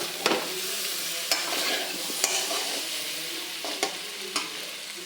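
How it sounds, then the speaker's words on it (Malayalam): Yam mezhukkupuratti is stirred slowly in a pan: a soft, even sizzle runs throughout, punctuated by a handful of distinct scraping knocks from the spoon against the pan, with no voices. "സാവധാനം ഇളക്കി കൊടുക്കണം"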